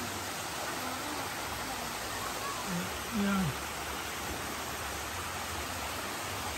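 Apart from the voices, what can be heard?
waterfall at Nagpana Falls, Barotac Viejo, Iloilo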